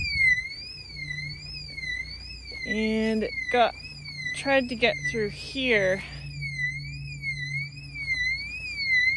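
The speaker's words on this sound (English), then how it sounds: "I got the alarm going now." An electronic warbling alarm at a beehive apiary wails steadily in a rising and falling siren pattern throughout, while someone talks over it nearby.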